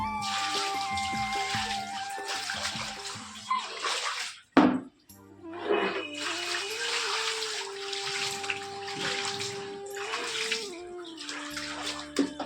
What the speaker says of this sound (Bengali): কলতলাটাও ধুয়ে দিলাম জল দিয়ে।